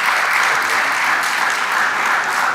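Steady, loud applause from a crowd at the closing ceremony of a scientific conference, continuous clapping without a break.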